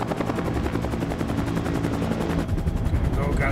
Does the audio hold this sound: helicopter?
yes